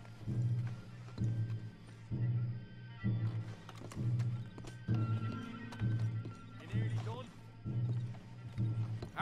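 Horses' hooves clip-clop in a steady rhythm over a low droning backdrop in the video game Red Dead Redemption 2, with a whinny partway through; the riders sound fairly close.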